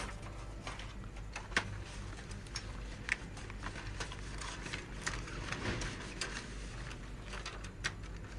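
Canon LBP 3500 laser printer feeding and printing an A3 test page, a steady mechanical whir with repeated small ticks and clicks from the gears and rollers, close by with no talk.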